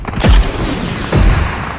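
Vehicle-mounted machine gun fire in a video game lands as two heavy booming bursts about a second apart, loud and close, with no talk over them.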